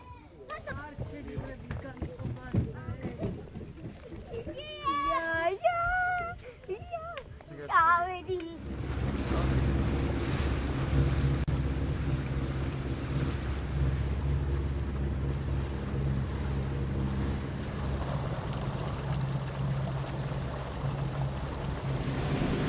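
At a water-skiing competition on the Tbilisi Sea, a speaking voice comes first, then a steady, loud roar of a boat and churning water with wind buffeting the microphone.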